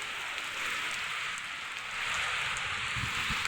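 Steady rain shower falling outdoors among trees, a continuous soft hiss of drops on surfaces, slightly fuller in the last second with a few closer drips, no voices.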